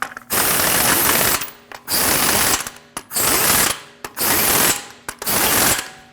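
A ratchet snugs the wheel lug nuts on a Jeep Cherokee, five loud rapid clicking bursts close up, each about a second long and separated by brief pauses.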